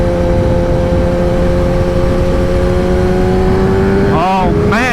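Kawasaki ZX-10R sport bike revving hard through twisty corners, a loud sustained engine drone with rising pitch, steady and close throughout, briefly shifting near the end.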